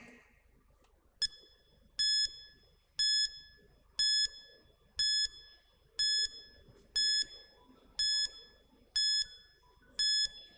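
A quiz countdown timer alarm rings out as a series of about nine loud, bright chimes, each spaced roughly a second apart in a steady rhythm over a quiet background.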